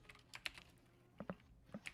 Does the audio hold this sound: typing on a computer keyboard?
yes